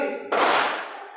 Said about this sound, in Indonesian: Tepuk tangan 1 kali